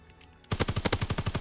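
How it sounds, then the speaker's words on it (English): Rapid automatic gunfire in Call of Duty WW2 erupts after a brief quiet lead-in, a close, loud stream of evenly spaced shots. "he shot me through the wall"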